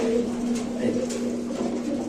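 Pigeons coo at a busy pigeon market, low murmuring calls blending under a steady hum and crowd noise, with people talking nearby.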